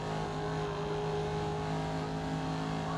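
Loud, steady race car engine in a racing video game, droning at a high constant pitch at top speed, a continuous buzzing roar with no pauses and no voices.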